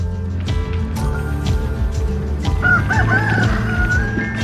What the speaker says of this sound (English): Oh, the chickens are up.